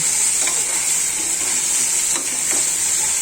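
Pieces of rui fish fry in a hot pan, a steady loud sizzle with a few stirring scrapes and clicks, no voices.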